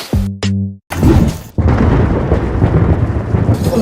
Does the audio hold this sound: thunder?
yes